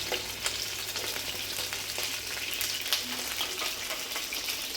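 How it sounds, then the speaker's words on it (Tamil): Continuous crackling sizzle of dried chillies frying in hot oil, steady and close, with a few sharper pops and no talking. "ஸோ வரமிளகா பொரிக்கும்."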